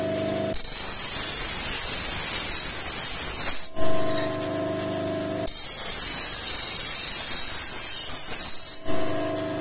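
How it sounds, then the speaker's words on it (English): A knife grinds on a CBN wheel spinning at high RPM with honing coolant, giving loud, steady hissing spray in two long passes separated by a brief pause. "A new knife, the same test, grinding from 20 down to 12 degrees, but now with the honing coolant"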